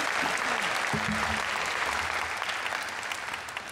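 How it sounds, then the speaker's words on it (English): Audience at a university convocation applauds the graduates, a full, sustained burst of clapping with a brief voice heard early on, slowly easing off toward the end. "Raise your voices and clap in thanks and congratulations for the graduates."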